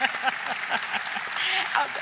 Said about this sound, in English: Give her a round of applause, Becky Pringle.